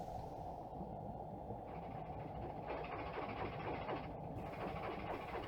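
A small, fast ship engine picked up on a submarine hydrophone in Silent Hunter 3 at night, a steady low droning churn with a faint rhythmic beat, continuous and fairly quiet throughout.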